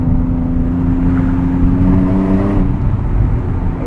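A 2006 Porsche Cayman S with a six-speed manual revs hard through an aftermarket exhaust, a loud, close engine note climbing in pitch and then dropping off near the end.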